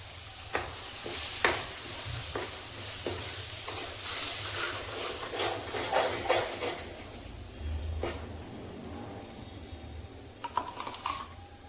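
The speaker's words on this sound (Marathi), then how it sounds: "हे वाटण पण एकदा चांगलं परतवून घेते" Onion and grated coconut paste sizzles as it is stirred and sautéed in a pan for paneer tikka masala, with a steady frying hiss broken by scattered scraping and clinking of the spoon against the pan.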